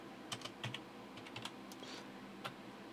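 Keys on a computer keyboard are pressed one at a time to enter an Alt code, giving a handful of soft, separate clicks spread over a few seconds, faint and close.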